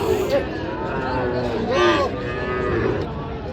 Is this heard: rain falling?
no